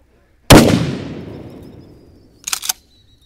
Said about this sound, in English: we're going to do a little bit of a shot into the rock pile with the 12 gauge.